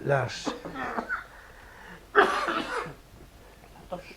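A person coughs several times in short bursts, with a louder harsh cough in the middle, close and fairly loud in a quiet indoor setting.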